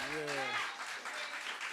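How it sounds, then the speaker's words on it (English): Audience applause breaks out at a talk-show style event as a voice trails off, a steady wash of clapping from a crowd that includes book club members, lasting about a second. "Clap it up for yourselves."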